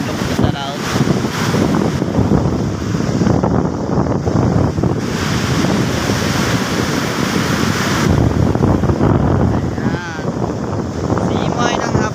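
Continuous rushing surf with sea waves breaking close by in front of a pier, blended with heavy wind buffeting the microphone throughout.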